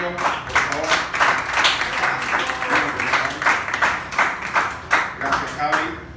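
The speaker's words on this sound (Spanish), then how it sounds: "Un aplauso para el negro, por favor" A comedy club crowd at a stand-up show claps and applauds loudly for a comedian, the dense clapping swelling in waves for several seconds with some cheering mixed in.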